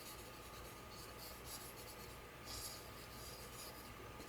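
A chisel tip marker scratches and rubs across paper while filling in a large area of a flower drawing, soft and continuous with faint strokes.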